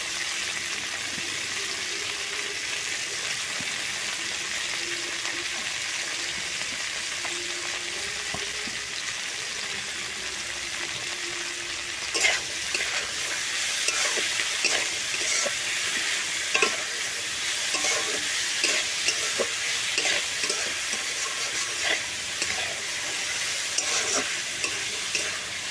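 Potatoes and beans fry in a pan, giving a continuous close sizzle with scraping stirs that grow busier and louder partway through, and no voices.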